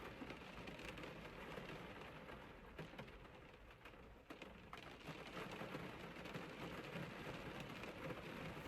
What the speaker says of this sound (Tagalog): naririnig niyo ba yung tunog ng ulan?